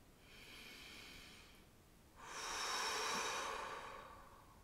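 Slow, deep breaths in and out during a guided relaxation, a soft airy inhale followed by a louder, longer exhale, close and alone with no talk.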